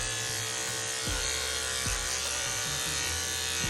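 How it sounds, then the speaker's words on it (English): Electric dog clippers fitted with a number 5 blade trim a dog's feet, a steady close-up buzz with brief dips in pitch as the blade meets fur. "I'm going to take a number 5, lightly trim off her feet to number 5."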